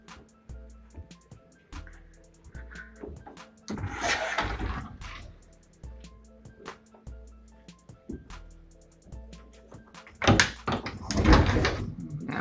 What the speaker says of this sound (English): Let me see if these doors work.